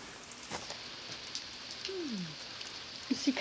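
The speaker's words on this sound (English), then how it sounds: "The rain chain is working." Rain drips and trickles down a rain chain outdoors in a soft, steady patter, with scattered brighter drops and a faint distant chirp.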